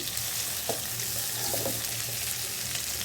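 Pointed gourd pieces frying in a pan, a steady broadband sizzle with a low hum beneath and a few brief utensil clinks, close and continuous, with no talking.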